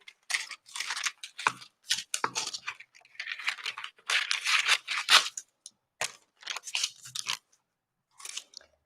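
Scissors cut greaseproof paper for a cake topper, giving sharp snips and crisp crinkling rustles that come in bursts separated by brief pauses, close up, with no talking.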